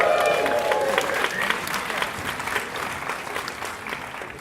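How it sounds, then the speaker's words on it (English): Audience at a horror film Q&A screening breaks into applause, strongest at the start with a few cheers and whistles, then gradually thinning and fading toward the end. "Round of applause for our filmmakers."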